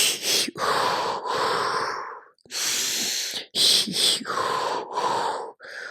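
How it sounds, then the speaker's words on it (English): Deep breathing for labor, a woman drawing long audible inhales and letting out forceful, breathy exhales in a slow repeating cycle, close and fairly loud with no speech. "So you're going to take a deep inhale."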